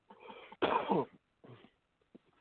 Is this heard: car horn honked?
no